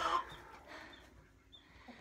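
Chickens in a chicken coop, clucking and murmuring faintly in the background, with a few soft calls scattered over a quiet, low-level stretch and no talk.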